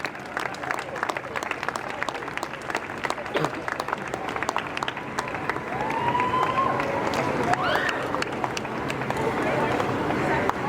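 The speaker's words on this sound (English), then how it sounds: "A round of applause for Team Australia." Applause from a crowd at an Optimist sailing championship prize giving, a steady patter of clapping that swells louder in the second half, with a voice talking over it early on.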